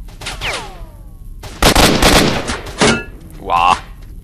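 Weapons fire in Stalker: Shadow of Chernobyl, loud close gunshots arriving in bursts with gaps between them, mixed with short game effects and a brief pained vocal grunt.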